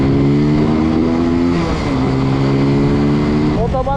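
An SRK 125S motorcycle engine runs loud and close, holding a steady droning idle with a brief rise in revs near the end, continuous throughout.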